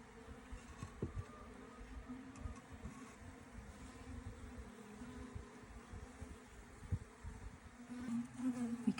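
Honeybee swarm just moved into a new hexagonal habitat hive, clustered at the top: a steady, dense buzzing drone continues throughout at moderate level, with occasional louder individual bees passing close.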